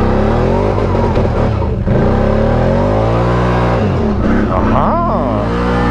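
Can-Am side-by-side engine revving hard during a burnout with the parking brake held and rear wheels spinning, a loud continuous droning roar with rising and falling pitch sweeps, a brief dip near the middle.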